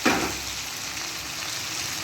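Fried chicken pieces drop into hot sauce in a pan, opening with a sharp hit followed by a steady, close sizzle and light stirring.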